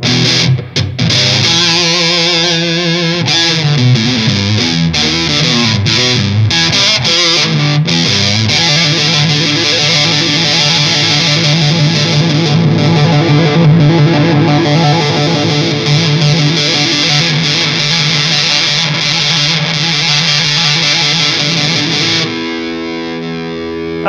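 An electric guitar through a Wren and Cuff Caprid fuzz pedal plays a busy riff, then holds a long sustained fuzzy note that rings out loud and saturated before a brief change near the end.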